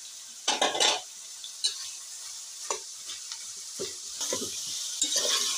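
Ridge gourd (tori) is stirred in a pan, with a soft background sizzle and a few sharp spoon scrapes and clinks against the metal, close by, coming in irregular bursts.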